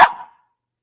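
A young puppy lets out a single short, sharp bark up close while chewing on a toy, then falls silent.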